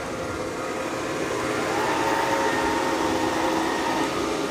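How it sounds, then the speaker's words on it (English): A robot vacuum cleaner's suction kicks back on during a mopping run, giving a steady, moderately loud whirring hum that rises slightly and holds with no talk over it. "You can hear the vacuum kick off and then kicks back on automatically."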